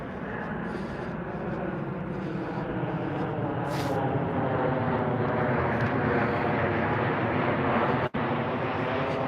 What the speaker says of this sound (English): I'm gonna let that plane fly over my head for a moment.